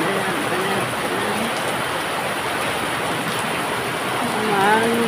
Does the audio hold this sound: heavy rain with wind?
yes